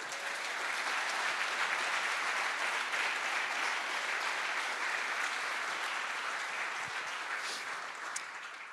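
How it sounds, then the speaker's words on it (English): A conference audience in Marbella, Spain gives a long, steady round of applause for the speakers at a closing session, dense even clapping from a large crowd that holds its level for several seconds. "let's give a round of applause to the speakers"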